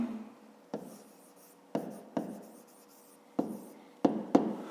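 Close scratching of a pen writing math notes for a school volume problem, short strokes starting and stopping in an uneven rhythm, with no voice over them.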